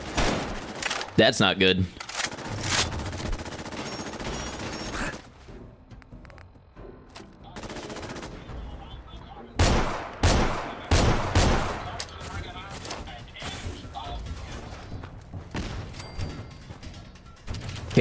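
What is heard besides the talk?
gunfire while shooting at tires in the video game Fallout 4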